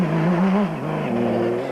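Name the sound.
off-road race vehicle powered by a motorcycle engine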